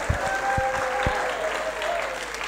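Holiday camp audience at St. Leonard's claps for arriving holidaymakers, a continuous moderate round of applause with a few sharper low thumps near the start and a faint hum underneath.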